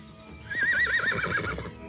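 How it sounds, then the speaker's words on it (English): A horse gives one loud, wavering neigh close by, with faint hoof clip-clops beneath it in a cartoon setting. "Horses!"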